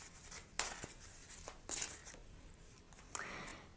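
Quiet papery riffling and snapping of shuffled cards, several short bursts spaced unevenly, with no voices.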